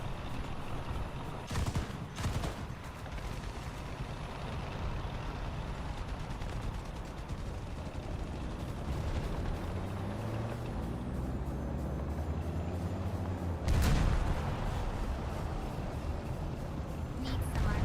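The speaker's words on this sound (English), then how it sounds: "The artillery is attacking us." Artillery fire in a video game: a few sharp booming blasts over a constant rumbling battlefield background with engine-like drone, with a voice speaking over the action.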